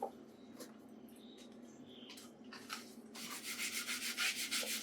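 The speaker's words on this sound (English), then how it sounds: "You use the sanding foam. You just scrub it along." Quiet rubbing and scrubbing of sanding foam against a carbon-blackened metal exhaust tip, building into quick rhythmic back-and-forth strokes toward the end.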